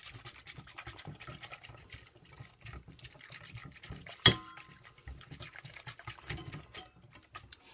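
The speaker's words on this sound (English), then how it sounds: "You want to whisk that up and make sure that all of the yogurt is combined." Plain yogurt being whisked in a container, a rapid, close, quiet scraping and sloshing rhythm with one sharp knock partway through, no speech.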